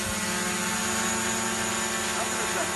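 A multirotor drone lands on autopilot during a UAV training session, its rotors giving a steady, close buzzing whine that holds unbroken for the whole moment.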